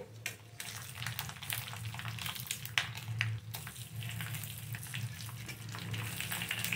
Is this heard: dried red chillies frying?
yes